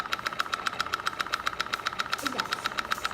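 A Stirling engine runs at a steady, fast rhythmic knock, each beat a sharp mechanical tick repeating evenly at moderate loudness close by.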